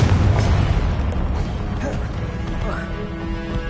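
A Confringo fire spell blast in the video game Hogwarts Legacy, a loud booming explosion that opens heavy and rumbles away into a rolling crash, with a voice speaking over it.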